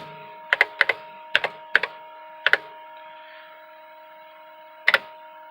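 Keys on an Osborne Executive computer keyboard, a handful of sharp, clacky strokes in short irregular pairs and singles, close and distinct over a faint steady hum.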